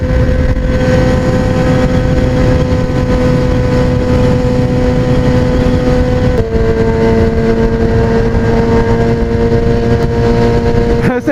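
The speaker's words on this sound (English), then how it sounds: "this exhaust is so fucking loud at this speed" A loud car exhaust drones steadily while cruising at about 8,000 rpm at speed, a sustained high-revving roar heard from inside the car, with a brief dip in pitch partway through.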